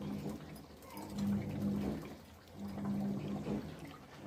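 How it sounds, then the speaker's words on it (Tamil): Water from a mixer jar poured into sambar, two soft gurgling pours separated by a short pause, quiet and close, with no talk. "இப்போ நல்லா இந்த மிக்சியில் கொஞ்சம் தண்ணி விட்டு அதையும் நல்லா கரைச்சி அதுலேயே ஊற்றிடலாம்"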